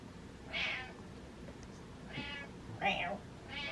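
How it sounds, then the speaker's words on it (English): A cat meows three times, with drawn-out, rising and falling calls spaced apart over a faint, steady background hum. "Meow. Meow. Meow."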